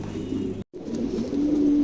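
Pigeons of a domestic breed cooing close by, low repeated throaty coos in a steady run, briefly cut off by a short gap before resuming.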